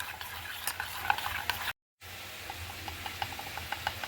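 Gram flour being stirred into yogurt for Punjabi kadhi, a steady soft scraping and swishing of a spoon in a bowl, close and continuous, with a brief dropout partway through and no talking.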